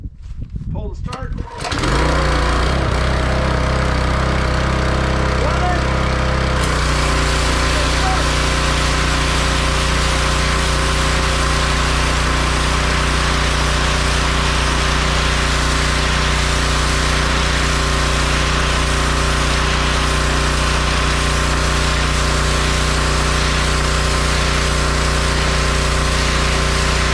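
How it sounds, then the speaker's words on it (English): A small Westinghouse gas engine is pull-started, catching after a few rough tugs, then settles into a loud, steady, close-up buzzing idle with a constant droning hum that runs unbroken to the end. "Gas on, engine on, pull the start."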